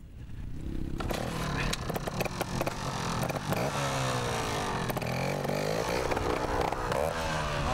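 A trials motorcycle engine fires up and runs at a teen trials competition, settling into a loud, steady, rough idle with some revving, close by and heard without talk.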